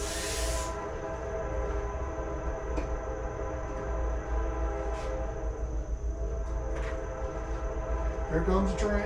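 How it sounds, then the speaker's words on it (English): A train rolls past nearby with a steady rumble and a sustained horn tone, joined by occasional clanks and a brief higher squeal near the end, all recorded outdoors. "Here comes the train."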